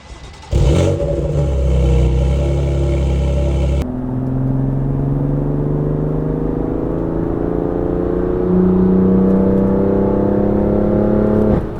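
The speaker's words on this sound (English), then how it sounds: "we'll get a little bit of driving in, let's say spirited." A 2020 BMW M2 CS coupe is driven hard, its engine revving up through rising pitch, then a gear change and another strong climb, loud and close from inside the car with no speech.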